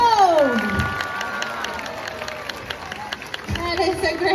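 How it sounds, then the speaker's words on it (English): A live audience at a Hersheypark seal and sea lion show applauds and cheers for Cove, a harbor seal weighing a little over 100 pounds, with steady crowd noise, children's shouts and whistles mixed throughout. "Put those hands together for Cove."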